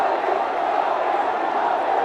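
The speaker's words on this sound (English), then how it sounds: "The huge roar from the crowd." A large crowd roars steadily at a cricket match at Arun Jaitley Stadium in New Delhi as Virat Kohli walks out to bat, a dense sustained wall of cheering that holds at full volume throughout.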